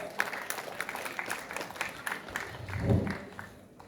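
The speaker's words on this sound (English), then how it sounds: "Please give him a big hand and standing ovation for Mr. Devesh Chaturvedi." Applause from an audience at a formal agriculture event as a government official is invited up, a moderate, fairly distant patter of many hands that continues steadily, with a low thump near the end.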